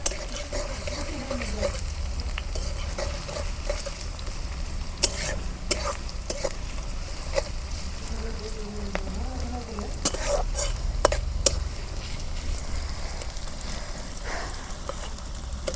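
Onions fry in a pan for spicy chicken kosha, a soft, continuous sizzle with occasional scraping and stirring clinks, fairly quiet, with a faint voice in the background.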